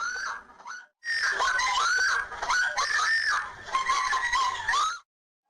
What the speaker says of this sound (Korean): 여주인이 소리를 지르며 도망칩니다